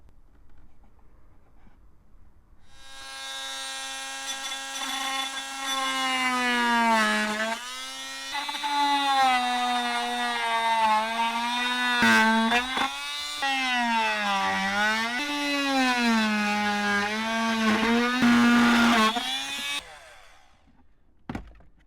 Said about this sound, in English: We're going to grab a multi-tool and start making some cuts.